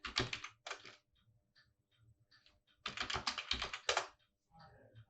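Someone types a command on a computer keyboard at a command line, with rapid bursts of close clicking keys separated by pauses and a few scattered single taps.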